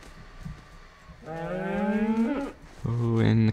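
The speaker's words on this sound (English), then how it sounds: "Oh, and the cows are really loud" Blocky Minecraft cows give two loud, drawn-out moos close by, each a low bellowing call, the second deeper and heavier, over faint game background noise.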